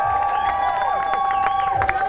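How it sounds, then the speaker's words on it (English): A crowd at an eating championship cheers and whoops loudly for the contestants with scattered clapping, a dense, sustained roar of voices. "how about a round of applause for all our contestants?"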